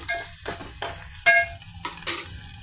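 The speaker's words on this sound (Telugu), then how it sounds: "మన ఫ్రై అవుతున్న పెద్దల్లిపాయ పీసెస్లో half spoon ginger and garlic paste add చేసామండి" Onion pieces frying with a half spoon of ginger garlic paste, stirred in a pan: crackling sizzle under repeated scraping strokes of a spoon, close and steady, no voices.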